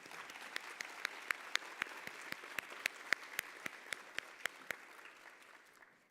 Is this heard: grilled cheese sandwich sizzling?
no